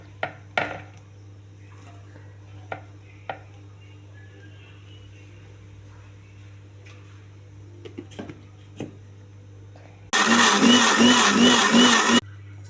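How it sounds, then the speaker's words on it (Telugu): Mixer grinder blending tomato, onion, ginger, coconut and cumin into a paste, a loud, close motor whir that starts abruptly after a few scattered clinks and runs for about two seconds. "మొత్తం మిక్సీ చేసుకోవాలండి."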